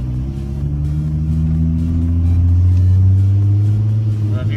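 A VR6-engined car with no power steering revs loudly and close by, a deep rumbling engine note that climbs and swells toward the end of the stretch.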